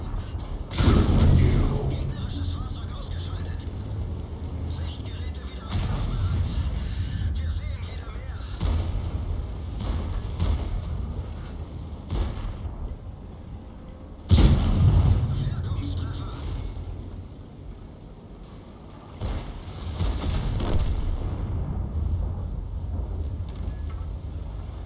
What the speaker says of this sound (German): Jetzt schießen sie schon HE, die IS-3, weil sie nicht durchkommt.